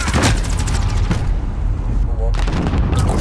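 Gunfire in Modern Warfare booms in a few heavy, spaced shots with rumbling tails, loud and close, between stretches of dense battle noise.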